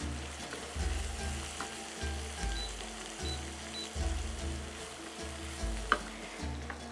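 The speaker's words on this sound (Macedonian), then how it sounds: "Пет минути му е доволно да се запржи малку пиперката и кромичето" Sliced peppers and onion frying in a pan, a continuous soft sizzle with regular low thumps of stirring, close and steady, with no talking.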